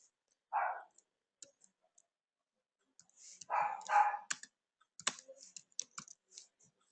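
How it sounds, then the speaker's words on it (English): An answer being typed on a computer keyboard: scattered quick key clicks come in short bursts, mixed with a few louder thumps and brief noises in a quiet room. "I'm going to type the answer here."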